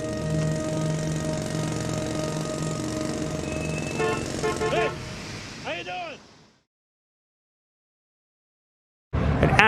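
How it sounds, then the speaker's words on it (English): A jackhammer pounds pavement on a Los Angeles street, a loud continuous rattling drone with engine-like hum, then cuts off into silence before resuming briefly at the end. "Egon was digging a giant hole in the pavement with a jackhammer."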